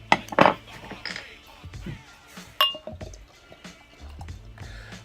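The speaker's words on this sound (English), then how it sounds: "Let's go ahead and get this one open and get it into a glass to see how it performs now." A bottle of Bell's Third Coast Old Ale, a 10.2% ABV aged beer, is handled and opened, with sharp glass clinks and knocks, scattered clatter and a brief liquid pour into a glass, close and intermittent.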